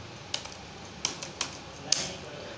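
A few light, separate clicks of keys as Python code is typed on a computer keyboard, faint taps spaced irregularly over a quiet room background.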